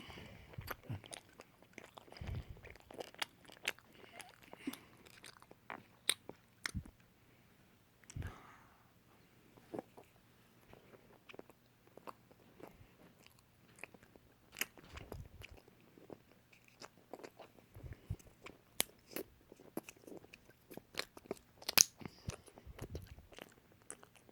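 Jelly being chewed and crunched close up, with irregular bursts of bites and wet crunches repeating throughout, no talk over it.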